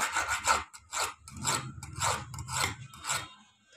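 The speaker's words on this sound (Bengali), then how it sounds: "তো এভাবে আপনারা ঘষে পয়েন্টটাকে চুক্কা করতে হবে।" A sewing machine rotary hook point being filed by hand, with about seven rhythmic rasping strokes, each a close, gritty scrape separated by short pauses.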